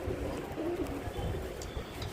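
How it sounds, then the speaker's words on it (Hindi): A pigeon coos softly with low, throaty murmurs against a steady background hum. "ये है बाजरा कबूतर"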